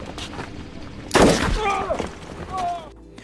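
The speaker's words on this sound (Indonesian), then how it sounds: "pada akhirnya Omar pun harus tertangkap dengan cara ditembak kakinya" In a film scene, a single loud gunshot bursts out amid voices and soundtrack noise, followed by brief tonal sounds.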